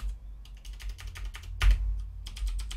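Computer keyboard keys clatter in quick, uneven bursts of close, crisp clicks, with one louder press midway and no talking.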